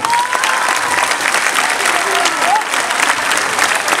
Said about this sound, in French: inspecteur Bourfa, Alassane Bourfa, applaudissez-le.